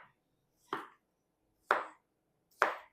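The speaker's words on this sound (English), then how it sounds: "I'm going to slice this into quarters" A knife cutting a zucchini into quarters on a board, three separate sharp chops spaced about a second apart, close and clean against a quiet background.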